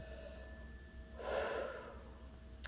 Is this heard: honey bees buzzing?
no